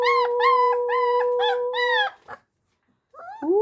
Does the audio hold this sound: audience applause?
no